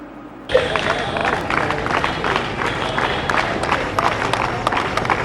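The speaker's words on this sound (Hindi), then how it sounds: "जोरदार तालियां बजाइए सभी लोग" Crowd applause at the opening ceremony of a village sports competition after a flag hoisting and march past, starting abruptly after a brief quiet and holding as a dense, steady clatter of many hands.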